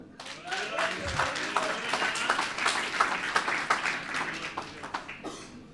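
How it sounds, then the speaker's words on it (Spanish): A congregation applauds during a church retreat service in Bonaire, dense clapping with distinct individual claps that stays lively throughout, while a voice speaks over the start. "aplauso a Cristo."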